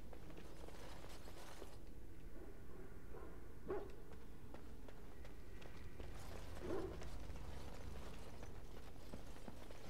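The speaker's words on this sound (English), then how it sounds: "Do I hear a dog?" Dog barking in the fantasy role-playing game Dragon Age Origins, a few short barks at moderate distance over a steady game ambience of footsteps and background noise.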